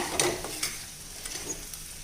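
Ivy gourd fry with spice powder stirred in a pan, a soft hiss of frying under a few scraping strokes of the spoon against the pan, close and fairly quiet.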